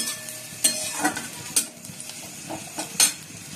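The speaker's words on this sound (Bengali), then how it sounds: "পেঁয়াজটা ভেজে নিচ্ছি, পেঁয়াজ পোস্ত করবো বলে" Onion fries in a pan while being stirred, a low constant sizzle broken by several sharp clinks and scrapes of the utensil against the pan, close and without speech.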